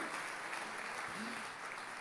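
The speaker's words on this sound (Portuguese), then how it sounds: "Você pode aplaudir ao Senhor por isso?" Steady applause from a church congregation fills the whole stretch, a dense, even patter of many hands clapping together.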